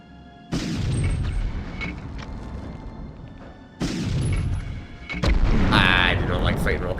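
Heavy explosions from rocket fire in the 1999 video game Medal of Honor: two loud booming blasts with rumbling tails, followed by a harsher burst of crackling impact noise near the end.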